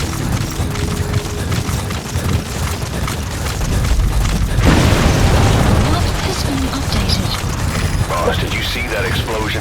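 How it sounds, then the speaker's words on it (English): A loud burst erupts midway through a Metal Gear Solid 5 Phantom Pain game scene, rising out of mechanical in-game clatter into a broad, sustained rumble that lingers afterward. "Did you see that explosion?"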